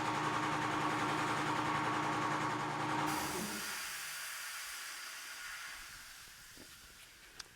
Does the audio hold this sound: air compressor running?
yes